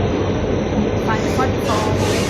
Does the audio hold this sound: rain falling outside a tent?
no